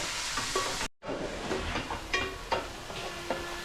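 Egg and dried fish curry fries on a low flame while being stirred: a close, hissing sizzle with repeated scraping strokes, briefly cut off by a short silent gap early on.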